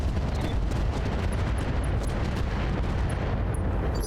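Mech weapons firing in the BattleTech video game during a lunar battle, a dense, loud barrage of overlapping booms and rapid shots that rolls on without pause for the whole stretch.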